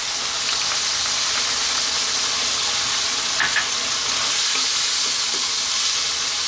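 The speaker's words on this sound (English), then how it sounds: "for 2 more minutes on this high heat, we're going to stir fry this around" Pork stir-fried in soy, oyster sauce and ketchup over high heat, a loud, dense, continuous sizzle with faint scraping stirs, close and steady throughout, no talking.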